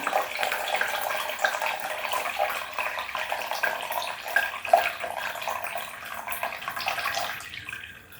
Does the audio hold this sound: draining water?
yes